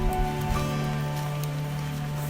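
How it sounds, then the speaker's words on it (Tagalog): Steady rain pattering on surfaces outdoors in Nara in autumn, a continuous close hiss with scattered drop ticks and a low rumble beneath, no voices. "Uy, umuulan."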